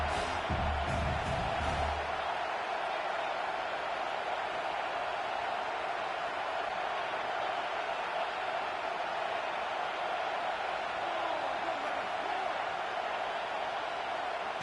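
Steady roar of a home crowd in the NCAA 25 college football video game on fourth down, a dense continuous wash of noise throughout with a brief lower rumble at the start.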